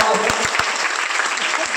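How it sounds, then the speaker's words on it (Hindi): Loud, steady applause from an audience at a college cleanliness-campaign event, sustained throughout with a few sharper claps standing out near the start. "उसके लिए बहुत जोरदार तालियां।"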